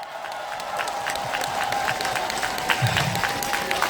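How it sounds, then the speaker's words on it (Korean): Outdoor festival crowd clapping at a closing ceremony, a sustained patter of many hands at moderate distance, with scattered cheers and a faint sustained tone beneath. "그리고 이분들하고 또 김보라 시장님께 큰 박수 한번 부탁드립니다."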